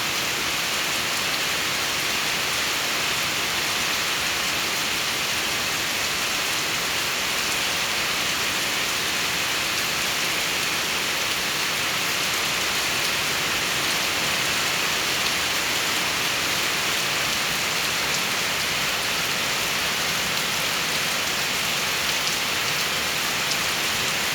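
Heavy rain pouring down in Laos, a dense, unbroken roar of drops hitting surfaces that stays loud and even throughout, with no voices.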